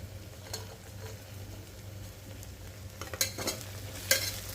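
Onions and coriander leaves frying in a pan for vegetable brinji, stirred with a utensil: a low steady sizzle under a hum, with a few sharp scraping stirs near the end.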